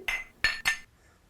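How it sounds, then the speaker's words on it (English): Glasses clink together as a sound effect, three bright, ringing chimes in quick succession, each decaying fast and heard alone in a short burst. "Glasses."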